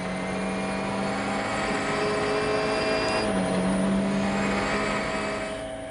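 A WRC rally car on the Monte Carlo rally holds a loud, sustained engine note at the rev limiter, close and steady, with the pitch dipping briefly midway.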